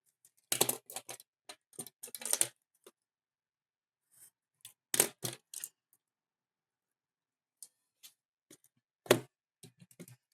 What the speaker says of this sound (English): Typing this into the calculator if you need to.